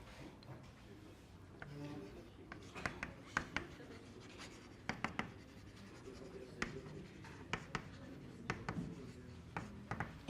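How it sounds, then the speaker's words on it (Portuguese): Handwriting on a surface during a math lesson: soft scratchy strokes and sharp taps come in irregular bursts, close and quiet, with a person's voice speaking at times. "deixa eu escrever aqui"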